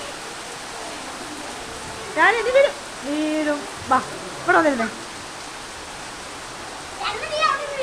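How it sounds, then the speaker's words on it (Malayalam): Heavy rain pours down in a constant, even wash of noise while people talk intermittently over it. "അടിപൊളി, നല്ല മഴ."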